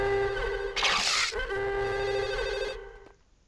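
A telephone rings in Max Payne, one long trilling bell burst lasting about two seconds over a low background hum, then cutting off.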